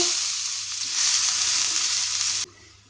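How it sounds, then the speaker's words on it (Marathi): Chopped onion fries in a pan on low gas for a Goan mackerel, urad and methi dish, giving a steady, close hiss and sizzle that cuts off abruptly near the end. "तर आतां हो म्हाजो कांदो तळसून जाला।"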